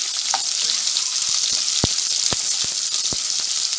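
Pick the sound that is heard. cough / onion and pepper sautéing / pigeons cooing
onion and pepper sautéing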